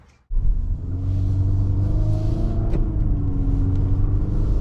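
A 2023 Infiniti QX55 crossover starting off, its engine rising from near silence into a steady low rumble with a slowly shifting hum, heard from inside the cabin and without talk.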